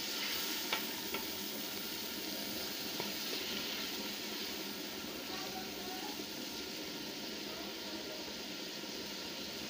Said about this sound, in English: And also stir it for some minutes or some seconds so that the tomatoes can melt down.